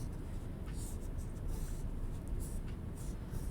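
Crayon or pencil drawing lines on paper for a toucan picture, a steady close scratchy scraping that runs throughout with short brighter strokes at intervals.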